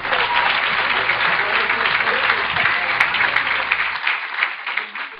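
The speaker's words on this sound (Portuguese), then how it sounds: "Você pode se aplaudir a ti mesmo por estar aqui." Seated audience at a church gathering applauding themselves, a full, continuous round of clapping from many people that fades slightly toward the end.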